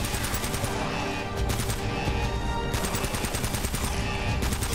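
Gunfire in Uncharted: Drake's Fortune, dense and continuous with repeated rapid bursts like automatic weapons over a loud game mix throughout.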